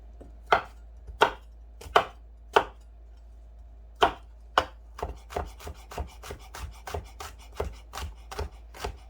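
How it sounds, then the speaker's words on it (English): Knife roughly chopping a smashed garlic clove on a board, a few separate sharp chops at first, then a quicker steady run of close, crisp strikes. "And then chop roughly."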